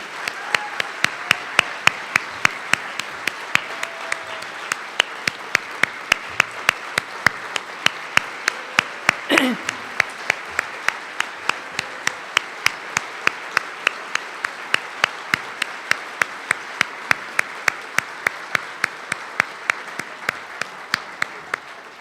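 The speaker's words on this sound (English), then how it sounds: "I just want to start by a round of applause for this most extraordinary family" An audience at a charity bash for a family claps, steady and sustained for over twenty seconds, even and fairly close, with a brief sharp clatter partway through.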